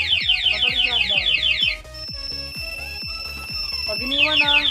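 A 2020 Yamaha NMAX scooter's two-way alarm sounds loudly nearby, rapid repeating chirps giving way to a steady electronic tone before the chirping returns, over a faint background.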